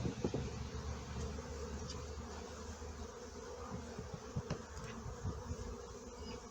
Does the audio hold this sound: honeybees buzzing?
yes